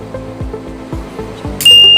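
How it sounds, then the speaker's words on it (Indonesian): A buzzer on a flame detector module goes off when a lighter flame is held in front of it. Several dull, regular thumps come first, then a loud, sustained, high-pitched electronic tone starts abruptly near the end. "Jika terdapat api di depannya, maka buzzer ini akan menyala seperti ini."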